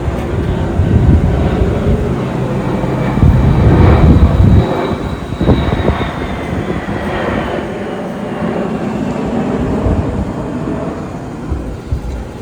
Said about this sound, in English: there's a plane flying over me